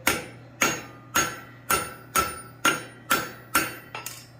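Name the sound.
hammering hot steel on an anvil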